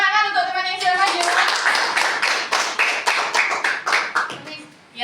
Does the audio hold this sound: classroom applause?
yes